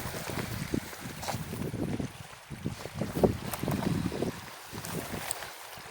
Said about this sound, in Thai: เวลาเดินไปมีลมพัดมาแบบนี้ก็จะมีความรู้สึก ได้รับกลิ่นไอทะเลค่ะ